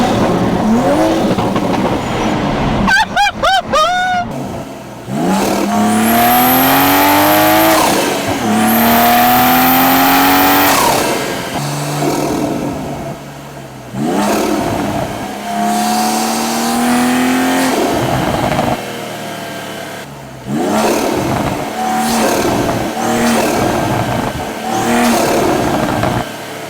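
Loud, close revving from a Toyota GR Supra fitted with an aftermarket intake: repeated rising throttle blips and sustained high-rpm pulls with sharp intake roar, short gaps between bursts, no talking.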